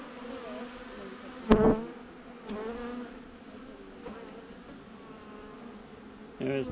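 Honey bees hum steadily around a hive being installed, a continuous close buzz with a few louder passes and brief handling knocks.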